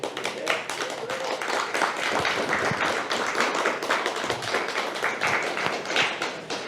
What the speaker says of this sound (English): this is an extra applause